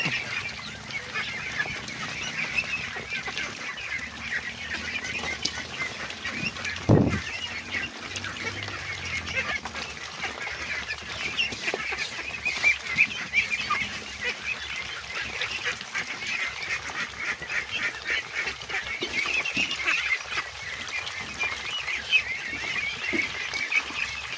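A flock of domestic ducks feeds on azolla mixed with other feed, making a dense, continuous chorus of close dabbling, slurping and soft quacking that stays loud and steady throughout, with no talking.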